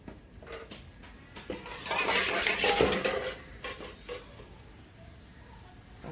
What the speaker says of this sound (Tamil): இப்போது நம்ம சக்கரை போட்டுக்கலாம்